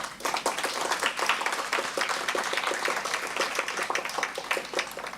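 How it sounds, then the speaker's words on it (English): A crowd at a children's book bazaar opening applauds in a lively, sustained burst of many hands clapping, steady throughout with no one speaking over it. "Let's give a round of applause to all our young authors again"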